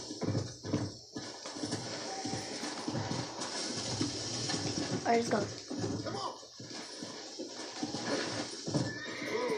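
A horse in the Red Dead Redemption video game neighs and gallops, with whinnies and hoofbeats mixed under someone talking, moderately loud throughout the clip.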